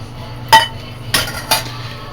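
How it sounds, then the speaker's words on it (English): Risotto stirred in a pan with a utensil gives three short clinks and scrapes against the metal, spaced apart over a quiet low background hum. "give this another stir and add some more liquid"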